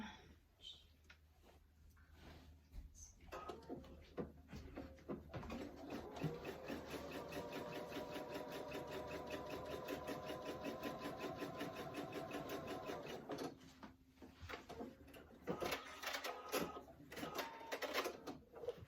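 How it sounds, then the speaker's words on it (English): A home sewing machine runs across fabric for a tissue box cover in one sustained whirring stretch of about ten seconds, with quieter handling clicks and rustles before and after, all faint. "you kind of have to figure out where the middle is and just sew it across"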